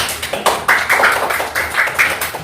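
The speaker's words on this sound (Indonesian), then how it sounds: "tepuk tangan" Students in an Islamic education class on halal and haram clap for a presenting group, a short burst of fairly close, uneven hand claps.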